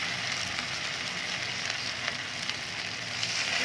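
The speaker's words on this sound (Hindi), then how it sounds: "पकौड़ों को हमने हल्की आंच पे फ्राई नहीं करना है।" Semolina and potato pakoras frying in hot oil, a steady bright sizzle with faint crackles and pops running throughout, close and unbroken, with no talking.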